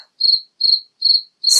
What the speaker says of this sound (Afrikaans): het die kriek begin tjirr